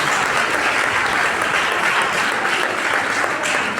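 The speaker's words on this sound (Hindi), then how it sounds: "आपने सबके लिए तालियां दी" Parish congregation at a Catholic church gathering in Karachi applauds, a dense, steady clapping that fills the whole stretch at even loudness with no talk over it.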